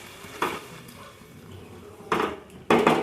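A lid clatters onto a metal cooking pot of chicken kosha: a few sharp, close metallic knocks and scrapes separated by quiet pauses, with the last contacts landing loudest.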